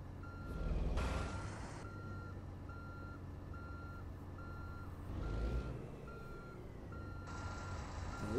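Steady, evenly spaced reversing beeps from a truck in American Truck Simulator as it backs around a fence, with the engine rumbling underneath and brief bursts of air-brake hiss.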